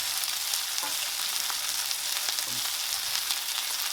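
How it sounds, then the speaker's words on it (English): Onions sizzle and crackle in a hot pan, a steady close hiss of frying with a few faint soft knocks of stirring, no voices. "When you're making onions, you've got to let it cook a little bit brown in color."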